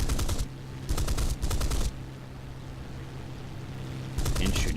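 A Mustang Mk Ia in a flight combat game fires its machine guns in three rapid, loud bursts, then a pause and a fourth burst, with a low engine drone running underneath.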